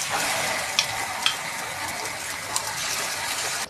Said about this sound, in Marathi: ही मेथी भिजवलेली 50 ग्राम मेथी आहे, ही तुपामध्ये भाजून घ्यायची